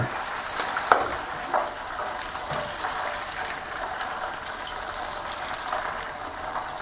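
Five large dried chilies, cut into pieces, frying in a pan of hot oil, a steady soft sizzle and crackle heard close, with a couple of small pops near the start.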